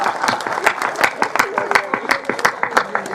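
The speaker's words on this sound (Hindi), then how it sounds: "अगली बात पर तो सबको ताली बजानी पड़ेगी।" Audience applause at a Hindi comedy poetry recital, a kavi sammelan: dense, steady clapping from a crowd runs through the whole stretch, with scattered sharper claps and some voices mixed in.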